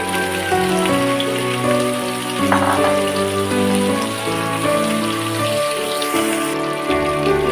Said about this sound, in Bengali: মশলা কষানো হয়ে গেলে এখন ডিম দিয়ে দিলাম